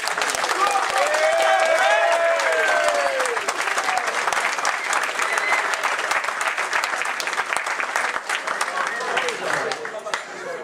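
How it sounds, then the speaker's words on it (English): Sustained audience applause fills a memorial evening for a signals squadron, dense and steady for about ten seconds, with a few voices calling out over the clapping before it thins slightly at the end. "Big round of applause, please."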